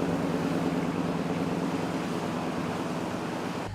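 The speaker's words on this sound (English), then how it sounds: "the water is just raging down Main Street" Floodwater rushes down the main street of a Montana town after a creek overtopped its banks, a steady broadband roar with no pauses and no voices.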